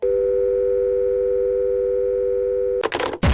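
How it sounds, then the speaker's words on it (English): A steady telephone dial tone hums loud and alone for nearly three seconds after a call on a phone line goes dead, then breaks off into a couple of short bursts of noise. "The phone goes dead."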